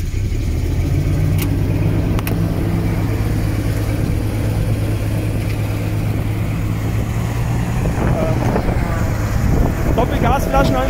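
A Caterpillar T120C LPG forklift engine runs at a steady, loud idle with a droning hum, roughened by wind buffeting the microphone and a few clanks toward the end.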